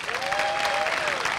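A brief burst of dense audience applause at a university graduation ceremony, steady clapping from a large crowd with a faint tonal whistle-like sound passing over it.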